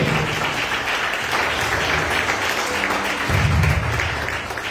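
A congregation at a Sunday church service gives steady, full applause in a worship hall. The clapping is thick and continuous throughout and swells slightly near the end.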